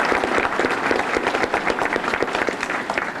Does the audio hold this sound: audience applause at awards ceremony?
yes